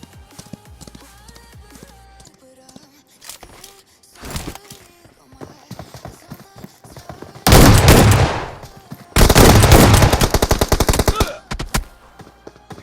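Gunfire in the mobile battle game BGMI, with bursts of rapid automatic shots in the second half, loud and dense, after quieter stretches of scattered single shots and footsteps.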